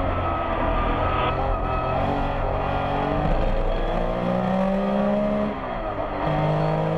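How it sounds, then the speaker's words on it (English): A Kremer Porsche race car takes the corkscrew descent at a 2015 Porsche Rennsport Reunion race, its engine roaring loud and close with shifting, rising and falling pitch as it lifts and accelerates amid other track noise. "Third place car just now starting the descent in the corkscrew. That's car number 0T Kremer."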